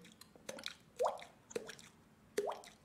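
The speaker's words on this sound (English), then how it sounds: "you hear the drip of moisture inside this cave system" Moisture drips inside a cave system in a fantasy game scene, several distinct plops falling at irregular intervals with soft echoing tails over a quiet ambient background.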